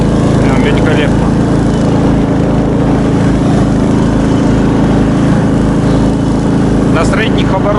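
An Albatros snowmobile engine holding medium revs on a trip through snow, a loud, close, continuous drone with a steady buzzing hum, while a voice is heard over it.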